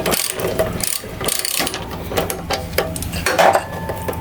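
A socket ratchet loosens a bolt on a Wolf, clicking in quick bursts with short pauses between strokes, close up and fairly loud, with no talking.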